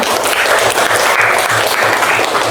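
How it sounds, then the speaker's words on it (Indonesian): A classroom of students claps together, a loud, close and steady burst of many hands with a faint rhythmic thump beneath, filling the whole short stretch. "Oke, tepuk tangan untuk kita semua."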